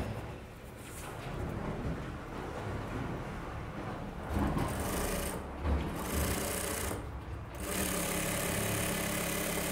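A tailor's sewing machine does rope stitching with a continuous rough mechanical drone throughout, fairly faint and steady with slight swells.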